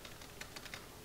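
Quiet, rapid clicks of fingers typing on a computer keyboard, entering text into a web browser; a short close burst of keystrokes with no talk.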